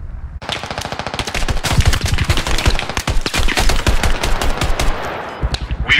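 Rapid, continuous machine gun bursts lay down covering fire in the military shooter Squad, loud and close with sharp repeated cracks that barely pause over six seconds.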